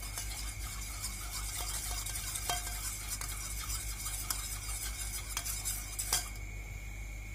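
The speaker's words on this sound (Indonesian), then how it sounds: "Lanjut ini kita aduk sebentar ya." A spoon stirs sugar and coffee with hot water in a glass, making rapid repeated metallic clinks and scraping against the sides, steady and close, with no one talking.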